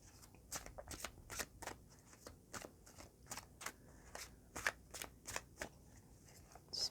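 Tarot cards are shuffled on a table in quick, regular riffling bursts, about two per second, each a crisp papery slap, close and fairly quiet with no talk.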